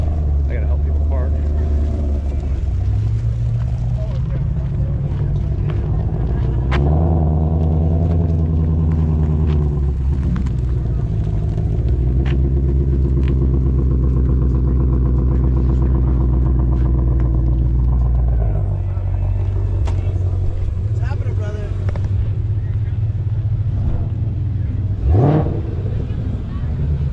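Engines rumble and rev as supercars roll into a Supercar Sunday show on a Shelby Day morning, with low throaty idling and throttle blips from nearby cars and people talking over the steady motor drone.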